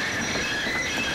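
Cartoon train wheels squeal sharply as they slip on wet rails in the rain. The screech is loud, brief and constant, and comes with a rumble of rail noise.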